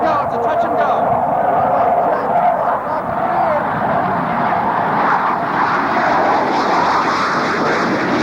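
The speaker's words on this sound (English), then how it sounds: "It's a Sabre jet." A Sabre jet doing a touch and go at the 1993 Quonset Point Air Show, its engine roaring loudly and steadily throughout, with a voice heard under the noise.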